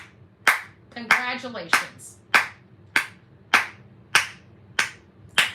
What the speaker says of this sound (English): Come on, let's clap it out for them